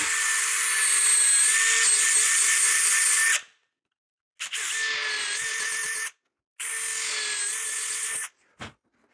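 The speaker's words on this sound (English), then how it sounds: "I'll use this Vicks bit to pilot the holes. And this is a 9/64 inch bit." A 9/64 inch Vix self-centering bit on a power drill boring pilot holes into maple for round-corner hinge screws; three sustained high whining bursts, the first longest, separated by short silences, loud and close.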